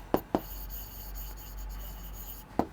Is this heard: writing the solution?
yes